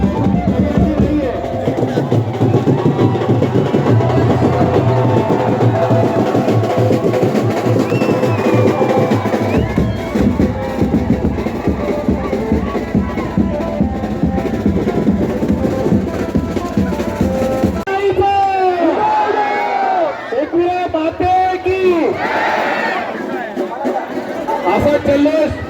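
Loud, dense crowd noise at the Ekveera Aai palkhi procession in Karla, with cheering, shouting and chanting devotees celebrating continuously, joined by high whistles and drum-like beats late on, steady and near throughout.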